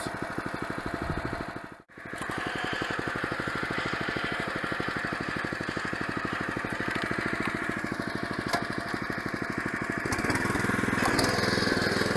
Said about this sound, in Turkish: aşağı indirdiğimizde gazı arttırıyoruz. Yukarıdayken de gazı hafifletiyoruz.